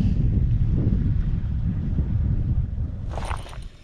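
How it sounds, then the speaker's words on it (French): Wind gusts rumble low and steady across the microphone beside a mountain trout stream in the Alps, fading slightly before a brief brighter rustle near the end. "Vent."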